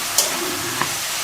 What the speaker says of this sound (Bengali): চিংড়ি মাছগুলোকে ভেজে নিচ্ছি লবণ হলুদ দিয়ে